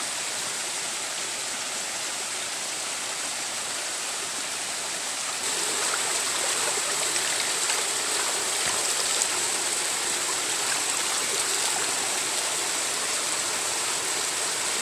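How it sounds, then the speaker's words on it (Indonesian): A clear river flowing through forest, a steady broad rushing wash of water that swells somewhat louder partway through, close by and continuous with no voices. "Air sungai ini sangat bersih sekali karena ini asli dari hutan."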